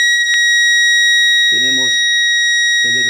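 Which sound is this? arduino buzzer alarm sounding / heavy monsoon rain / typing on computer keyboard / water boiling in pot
arduino buzzer alarm sounding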